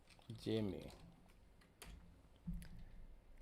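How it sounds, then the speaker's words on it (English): Keyboard typing while entering a name into the Instagram message search, a few soft taps under and between talk, with a louder click near the end. "Let me just type in Jimmy."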